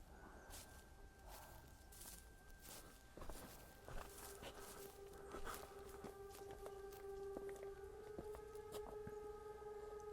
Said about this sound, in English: Hear those footsteps?